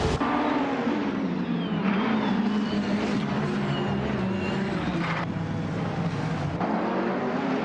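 Steady racing engine drone from a 2019 BMW M8 GT in a racing video game, a continuous loud mid-pitched roar that holds constant throughout with slight shifts, no talking.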